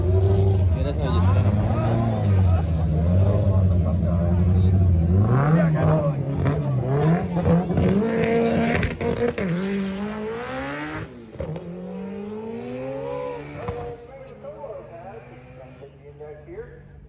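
Import cars at a car show, an engine revving hard in rising and falling sweeps near the microphone, with crowd chatter and people talking around it before it fades toward the end.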